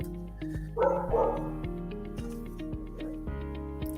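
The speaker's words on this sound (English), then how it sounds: "Yeah, my dog." A dog barks a few times, a short burst of sharp yaps near the start and a softer bark later, over a steady background of musical tones and ticking.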